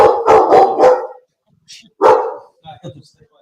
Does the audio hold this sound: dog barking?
yes